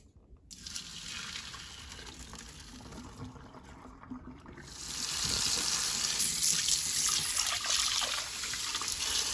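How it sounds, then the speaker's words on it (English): Cooked basmati rice being poured into a strainer over the kitchen sink, with a steady rush of running water and liquid that grows louder partway through and continues to the end. "So now I'm going to go strain it in my strainer over the sink."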